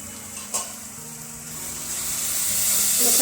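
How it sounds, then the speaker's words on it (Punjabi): Masala for tinda curry roasts and sizzles in a pan, a steady frying hiss that grows gradually louder, with a brief scrape of stirring near the start. "ਮਸਾਲਾ ਆਪਾਂ ਚੰਗੀ ਤਰ੍ਹਾਂ ਭੁੰਨ ਲਿਆ ਹੈ"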